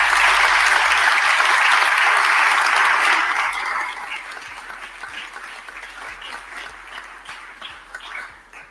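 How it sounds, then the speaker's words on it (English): Applause from a crowd at a Philadelphia event, cheering volunteers and contractors after the trash strike, loud and dense at first, then thinning into scattered claps that carry on steadily without talk. "Let's give them a round of applause."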